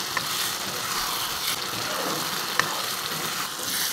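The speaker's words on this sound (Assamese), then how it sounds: "এতিয়া ইয়াতে দিছোঁ মটৰখিনি দি মই অকণমান ভাজি ল'ম" Peas frying in a pan with tomato as they are stirred, a constant close sizzle with a few sharp clicks of the spoon against the pan.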